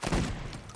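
Gunfire in the game Deadrop: a short, loud, dense burst of rapid shots, close and booming, crammed into under a second.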